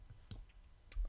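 Several sharp, quiet mouse clicks at a computer while tracing a shape with an image editor's polygonal selection tool, spaced irregularly with a clearer double click near the end, close to the microphone and without speech.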